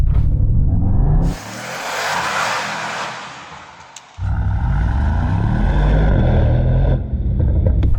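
Mercedes-AMG GT63 S V8 engine accelerating, a loud close rumbling roar that drops briefly at about one second, swells again after four seconds and keeps pulling strongly to the end, with no talk.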